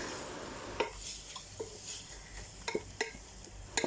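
Onions cook in oil with masala for a mutton biryani, a soft sizzle under repeated scrapes and taps of a spoon against the pan, close and quiet, with no talk.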